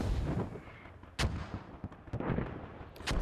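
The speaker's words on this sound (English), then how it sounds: "Although they are getting hit by mortars at this point." Mortar rounds land on soldiers in the tactical shooter Squad, heard as a rumbling series of distant booms and sharper cracks packed into about three seconds.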